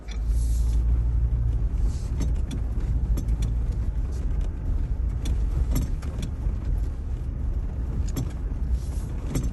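An off-road vehicle drives along a backcountry dirt trail in Utah, a steady low engine rumble with faint rattles, moderately close and without talk.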